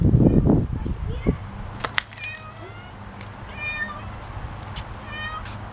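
A cat in a game meowing: after a burst of louder noise and a few sharp clicks, a series of repeated high, wavering meows follows, moderately loud over a steady low hum.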